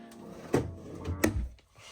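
Two soft, muffled thuds as a soft-close drawer in a 2026 Keystone Bullet Crossfire 2290BH travel trailer slides shut with a cushioned close, fairly close and quiet.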